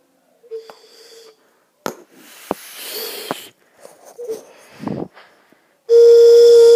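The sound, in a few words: whistle being blown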